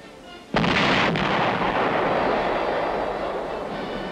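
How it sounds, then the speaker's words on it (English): A 105mm howitzer fired by a gun crew in the Korean War: one sudden loud blast followed by a long rumbling roar that slowly fades, heard alone. "A gun crew fires a 105mm howitzer."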